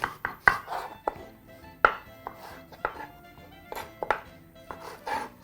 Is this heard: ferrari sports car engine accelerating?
no